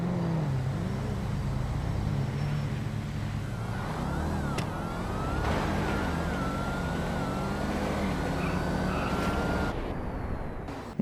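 A Dodge Hellcat and other street-racing cars in a GTA video game roar continuously, with engine drone and shifting revs filling the scene alongside siren-like tones.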